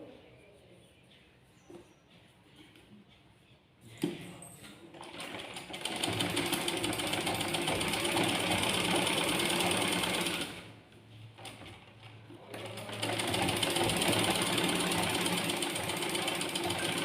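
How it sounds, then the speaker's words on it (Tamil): Release tucks being stitched on a sewing machine: a quiet start with a few clicks, then two sustained bursts of rapid, whirring stitching, broken by a short pause, close and fairly loud. "இப்போ 3வது தைப்போம்."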